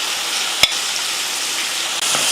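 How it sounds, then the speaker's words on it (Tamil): Boiled mutton frying with masala in a pan, a steady sizzle with stirring, one sharp clack of the spoon early on and a brief break later. "மசால் கூட மட்டன் போட்டு நல்லா ஒரு 2 நிமிஷத்துக்கு இது போல் கலந்து விட்டுட்டு"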